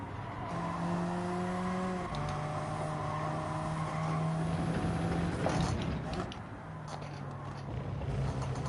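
An Alfa Romeo GT3 race car's engine drones and shifts through gears in Gran Turismo 7 open-lobby racing, steady revving with pitch changes, heard alongside a voice talking.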